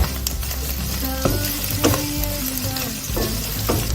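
Minced pork with scallion and ginger stir-fries in a wok: a loud, steady sizzle with repeated scraping strokes of the spatula, close up, with no talking.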